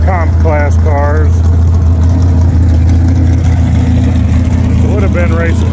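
A vintage Chevrolet Nova drag car idles at a vintage drag racing event at Little River, giving a steady low rumble throughout while someone talks over it.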